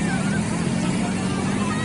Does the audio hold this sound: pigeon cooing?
no